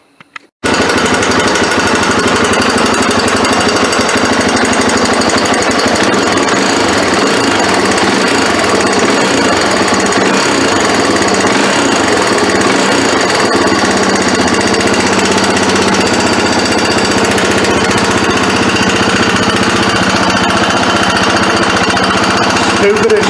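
A Honda 300EX ATV engine, just after a valve adjustment, runs loud and close with a continuous rough, rapid chatter that never lets up, after a few brief knocks at the start.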